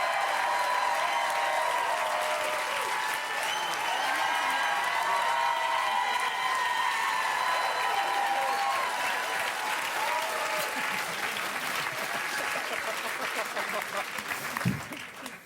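A studio audience at a Québec comedy show applauds the evening's improvisers, a dense, sustained wash of clapping with some cheering that runs steadily for about fifteen seconds before thinning at the end.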